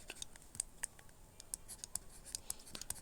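A pen scratches quickly across paper during a seventh-grade math lesson, a close, quiet run of short scribbles and taps in an irregular rhythm, with no talk over it.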